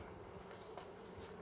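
A low, steady buzz of honey bees hums continuously in the background during a spring hive inspection, faint and without pauses.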